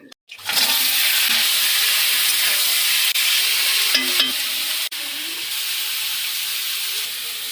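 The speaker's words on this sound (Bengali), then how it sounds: "মা আজকে তুমি কাঁকড়া রান্না করছো" Crab curry stir-fries in a hot pan with a loud, steady sizzle and hiss that starts abruptly and runs continuously, with a few brief scraping clatters along the way.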